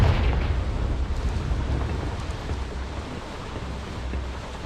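A Confringo fire spell blast in Hogwarts Legacy: a dense, roaring whoosh of fire and rumble, strongest at the start and then sustained as a steady broadband roar for several seconds, with no talking.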